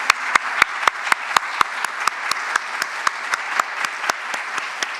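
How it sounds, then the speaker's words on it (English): A room of people at a fashion-exhibition talk applauding the speakers and Auslan interpreter, steady crowd clapping with one close, evenly timed clapper standing out above the rest. "Can you please give them a big round of applause?"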